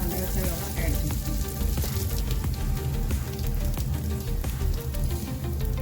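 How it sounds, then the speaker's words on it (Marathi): Rice semolina roasting in melted ghee over a low flame, a steady, close, dense sizzle and crackle of frying grains with faint stirring, continuous and without talk. "आता यामध्ये मी तांदळाचा रवा ॲड करते"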